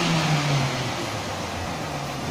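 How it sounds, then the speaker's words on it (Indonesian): Mitsubishi 4D34T Euro truck with the engine running and a broken transmission gear, giving a steady mid-pitched engine drone with a dense rattling knock from the gearbox throughout, close and loud, no talking. "Ini keluarnya adalah saat mesin hidup, di transmisi terdapat bunyi blak blak blak."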